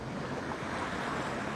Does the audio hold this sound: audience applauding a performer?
no